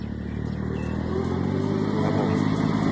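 A Hinomoto E224 22 hp two-axle Japanese farm tractor idles steadily, its diesel engine making a continuous close, loud chugging rumble with a slight rise in intensity, no voices over it.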